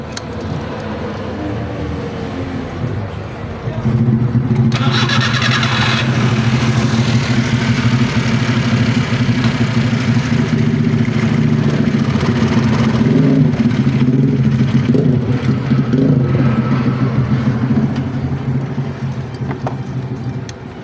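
A Suzuki K6A engine in a DA62 vehicle, running with low power, is cranked and catches at about four seconds, then runs steadily close by with a loud, even hum to the end.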